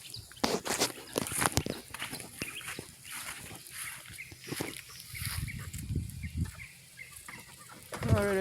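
Small baby chickens cluck and peep in short irregular bursts at close range, mixed with scratchy rustling and brief footstep-like taps, with a louder chirp near the end.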